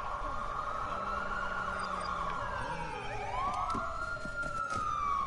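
A police car siren in the open-world game Watch Dogs 2 wails steadily through the whole stretch, its pitch sweeping up and down, fairly loud against continuous game ambience with faint chatter.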